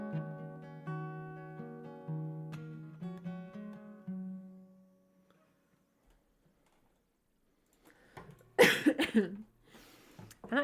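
A single stifled, muffled cough bursts out close to the microphone during a live-streamed music performance, following a stretch of fading guitar notes and near silence.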